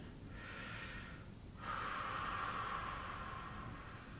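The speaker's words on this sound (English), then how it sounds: "From there, we're going to breathe." A person breathes in and out slowly during a self massage release of the neck muscles, with a soft, airy inhale or snort-like breath near the microphone and a longer, steady exhale that follows, alone with no talking.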